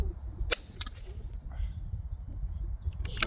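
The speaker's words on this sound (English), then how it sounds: "We'll do one more shot to confirm." Outdoors, a rifle fitted with a Hawke Frontier 3-18x50 FFP scope is fired at a cardboard target board at 50 metres, giving two sharp, loud cracks a few seconds apart, with faint bird chirps in between.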